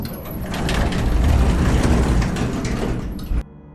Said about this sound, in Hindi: एक जोर की आवाज के साथ एलिवेटर रुकी और उसके डोर्स धीरे धीरे ओपन हुए